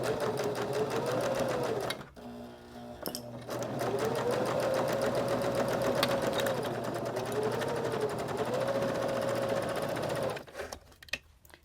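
Sewing machine stitching a long seam of fabric for a small lip balm keychain holder, with a steady close whirring hum that runs in long bursts and stops briefly twice, with no talking.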